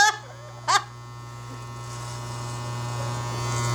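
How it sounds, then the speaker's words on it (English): Electric hair clippers buzz steadily through a home haircut, with a constant low motor hum running from start to finish and growing slightly louder near the end, plus a short vocal sound near the start. "Usually I use a comb and the clipper to kind of guide me."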